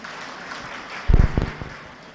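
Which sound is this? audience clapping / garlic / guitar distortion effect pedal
audience clapping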